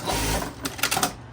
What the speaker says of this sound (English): Pretty nice standard sewing machine.